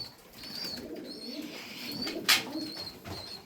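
Tumbler pigeons coo softly in a loft, with repeated low murmuring calls and a brief wing flutter partway through; a faint high whistle recurs in the background.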